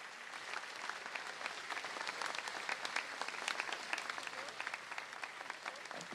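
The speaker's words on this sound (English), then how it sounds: "please give your applause." A live audience at a talk-show event claps steadily, a moderately loud, sustained ripple of many hands that holds across the whole stretch without voices on top.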